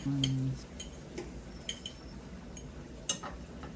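Roasted carrots are lifted onto a plate with a few light, scattered clinks of utensil against dish, quiet and close, after a brief voice at the start.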